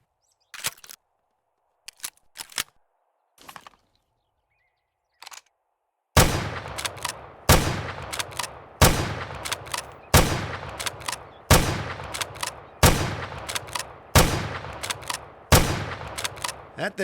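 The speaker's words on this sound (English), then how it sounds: "This launcher also comes with the sight. It's a single shot." A single-shot launcher fires repeatedly in the 7 Days To Die video game with an Escape From Tarkov overhaul mod, sharp loud blasts in a steady rhythm about every one and a half seconds, each followed by a decaying tail, after a few quieter clicks and thumps.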